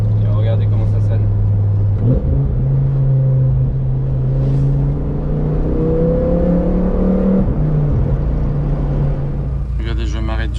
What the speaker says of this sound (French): je trouve que c'est un très bon choix d'avoir pris un V10. Et regardez comment ça sonne.